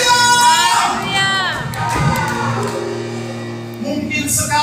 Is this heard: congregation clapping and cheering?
yes